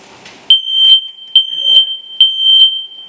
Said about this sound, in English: I'm going to set the smoke alarm